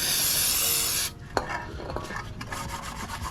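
Scraping and scrubbing on a differential cover from a 2005–2009 Mustang GT sprayed with brake cleaner, coated in old differential fluid: a loud continuous hiss of spray for about a second, then close rasping scrapes and clicks.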